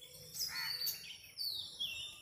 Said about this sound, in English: Lot of birds are there, but they are so swift.